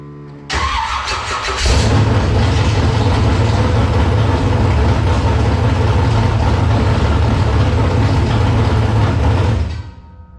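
A 1988 Chevrolet Monte Carlo with a swapped muffler starts up and settles into a loud, steady idle, the rumble holding close and constant for several seconds before cutting off.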